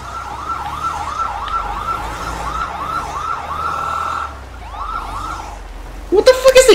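A video game ambulance siren wails in repeated rising-falling sweeps at steady volume, pausing briefly and then resuming, before a burst of louder chopped noise cuts in at the end.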